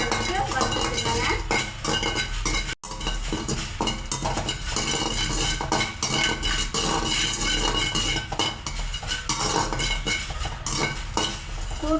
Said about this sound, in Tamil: பூண்டு நம்ம நல்லா வறுத்து எடுத்துக்கலாங்க.